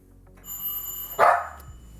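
A pet dog gives a single sharp bark on command, loud and close, preceded by a faint electronic ringing tone and low room noise.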